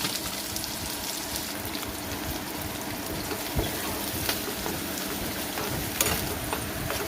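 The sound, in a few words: onions frying in oil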